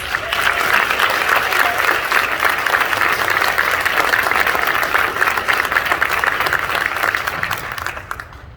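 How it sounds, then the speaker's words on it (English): Audience applause greets Dr. Elizabeth Meyers, an advocate of classical education, at a Safeguard our Schools event in Sumner County; dense, steady clapping from a large crowd fills the room, holding loud and even before tapering off at the end. "Please give a huge round of applause for Dr. Elizabeth Meyers."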